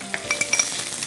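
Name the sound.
onions frying and being stirred in a pan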